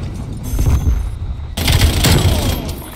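Intense gunfire and blasts from a Domination match on the Jungle map in Black Ops Cold War, with a burst of shooting, a brief gap and then a loud explosion-like rush of noise.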